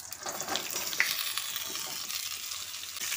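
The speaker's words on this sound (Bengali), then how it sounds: "পটলটাকেও এবার একটু ভালো করে ভেজে নিচ্ছি" Pointed gourd (potol) slices frying in hot oil with whole cumin seeds, a steady close crackling sizzle with faint stirring scrapes throughout, no voices.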